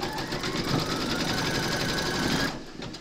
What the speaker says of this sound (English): Pop your hoop into your machine and stitch round number 15 to secure it